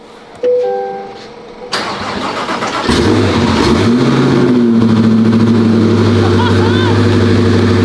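A twin-turbo C8 Corvette on a standalone ECU with a modified exhaust cranks over and fires up, then settles into a loud, steady idle close by; a short electronic chime sounds just before the start.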